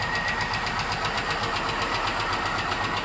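A Chevy truck engine runs with a rapid, regular knocking clatter beneath a rough, vibrating mechanical drone, loud and close throughout.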